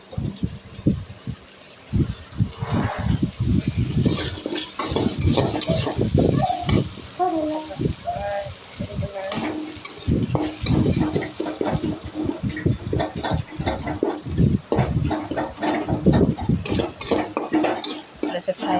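Potatoes and onions fried in a pan, stirred continuously with loud, rhythmic scraping and clattering over a constant sizzle, with brief voices now and then.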